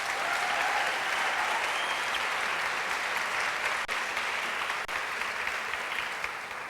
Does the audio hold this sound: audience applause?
yes